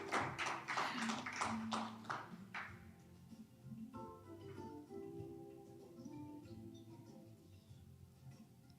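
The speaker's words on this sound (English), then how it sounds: "A big round of applause." Applause from the audience at a university research and innovation inventors' forum, a burst of broadband clapping in the first three seconds that fades as music and room sound take over.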